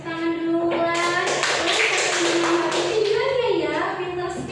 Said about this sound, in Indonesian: Tepuk tangan duluan.